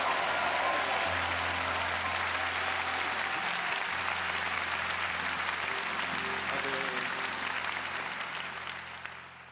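Sustained congregational applause at a Baptist church evening service, a dense, even wash of clapping from a large crowd that holds steady and then tapers slightly at the end.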